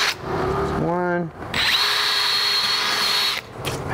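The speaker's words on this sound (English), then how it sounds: "so now we're gonna drill the top holes" Power drill whirring steadily while boring screw holes for a burglar-proof door strike plate, close and loud, with brief pauses between bursts and a short voiced sound in the middle.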